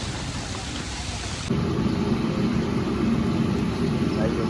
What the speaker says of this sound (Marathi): काही झाला जोरात पाऊस